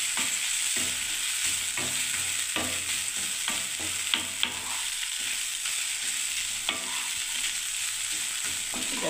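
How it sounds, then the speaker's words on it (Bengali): Peanuts fry in hot oil in a pan while being stirred, a steady bright sizzle broken by repeated scraping strokes of the spoon against the pan, close up and without speech. "এবার আমি নাড়তে থাকছি"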